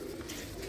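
Close by, a low, sustained coo rolls from a cup-winning white-eyed female racing pigeon with a little red on her neck, lasting under a second.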